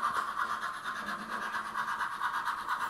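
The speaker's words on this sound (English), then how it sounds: "Now when the train comes around here in a second," A DCC model train rolls around its layout track, giving a steady, even hum with faint rhythmic clicking from the rails. It runs continuously at moderate level, with no talking.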